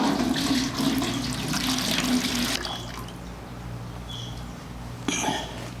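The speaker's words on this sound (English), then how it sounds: "I'm just gonna pour off the clear water here" Clear water poured off settled, wet-processed clay splashes and trickles steadily for a couple of seconds, then tapers to faint drips and light movement, close by with no talking.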